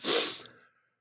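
A single sharp, breathy sneeze, loud and close, bursting out at once and trailing off quickly into silence.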